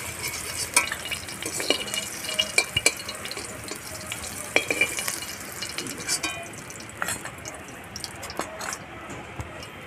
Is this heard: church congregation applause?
no